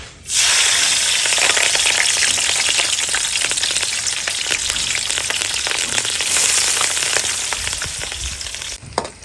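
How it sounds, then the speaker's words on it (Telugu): Green chilies and onions frying in hot oil, a loud, dense, continuous sizzle and crackle that holds steady before cutting off near the end. "నూనె వేడైపోయింది ఇప్పుడు మనం కట్ చేసుకున్న పచ్చిమిరపకాయలు ఉల్లిపాయలు టమాటాలు"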